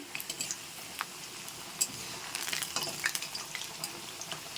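Meat and spices fry side by side in a pan for a home lunch, with a continuous close sizzle and scattered crackles and pops, moderately loud, and no voices.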